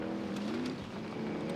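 A car engine in the video game Warzone drones at a steady mid pitch with a slight rise in revs, fairly close and continuous, with no speech over it.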